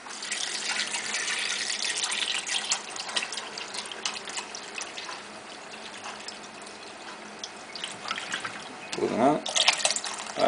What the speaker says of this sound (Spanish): lo cubrimos de agua.